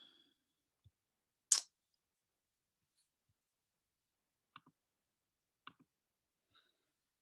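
A few sharp computer mouse clicks, isolated and quiet, with long silent gaps between them and one louder click near the start.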